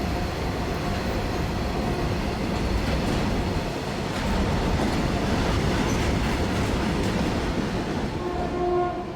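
A freight train rolls steadily through a port area, its continuous rumble and wheel clatter loud and close for the whole stretch, with no voices over it.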